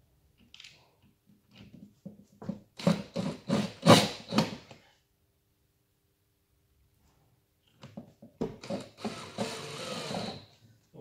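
A screwdriver drives screws to fasten the fittings of a budget wall bed, giving close bursts of rapid ratcheting clicks, first one run and then, after a pause, a second run.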